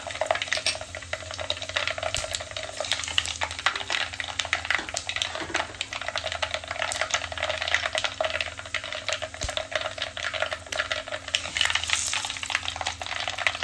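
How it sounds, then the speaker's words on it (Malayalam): Mustard seeds and dried red chillies sputter in hot oil in a clay pot for an amla pickle, making a close, steady sizzle with rapid irregular pops and occasional faint utensil clinks, and no talking. "ഈ കടുക് പൊട്ടി കഴിഞ്ഞിട്ടുണ്ട്."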